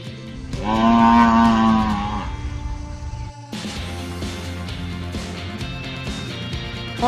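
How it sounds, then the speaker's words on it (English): A cow moos loudly and alone in a toy-play setting with animal sounds, one long drawn-out low call followed by a busier stretch of background music and noise. "cow,"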